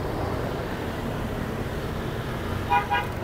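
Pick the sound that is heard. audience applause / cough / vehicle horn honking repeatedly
vehicle horn honking repeatedly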